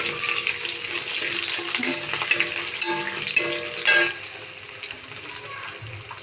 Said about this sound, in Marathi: तडतडली, त्याच्यामध्ये मी थोडेसं 2 लसूण कुटून घातले, 2 हिरवी मिरची आणि थोडा कढीपत्ता, हिंग घातला